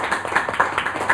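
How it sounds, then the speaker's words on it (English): An audience at a talk claps briefly, a dense patter of hands at moderate loudness for about a second. "I know you're getting a bit bored of clapping"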